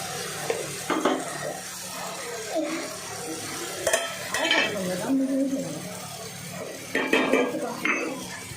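A spoon stirs turmeric and chili powder into Nellore-style fish curry in a pan, giving scraping and clinking strokes against the metal over a low sizzle, close by.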